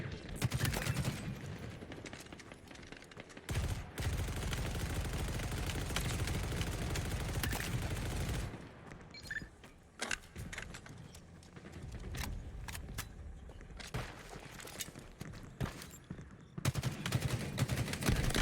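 Rapid bursts of gunfire in a Halo Infinite Big Team Battle match, loud sustained volleys broken by brief pauses, with a faint background voice.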